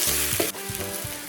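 Dry red chilies and curry masala sauté in a hot pan with ginger garlic paste, giving a steady close sizzle and fry, broken by brief scrapes of a spoon stirring.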